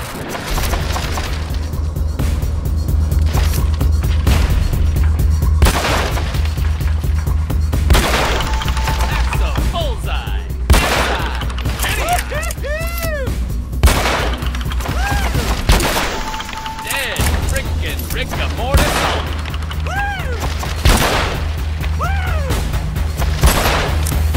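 Gunfire in Hitman: Absolution, repeated loud shots and impacts over a steady low rumble, with some crashing debris and tonal game effects mixed in.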